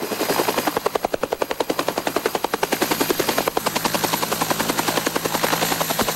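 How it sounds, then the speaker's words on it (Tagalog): Military helicopters fly low over Butig, Lanao del Sur, with a loud, steady thudding of rotor blades pulsing rapidly and evenly under a constant engine whine for the whole stretch. "Napapadalas na naman ang paglipad ng mga military helicopter sa bayan ng Butig, Lanao del Sur."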